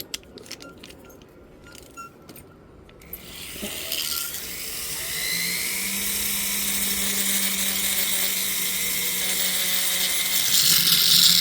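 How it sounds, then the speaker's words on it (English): A metal ring is ground with a small power tool: a few light clicks and taps come first, then a steady, high-pitched grinding whine builds and holds loudly to the end. "we're going to grind a little bit more here"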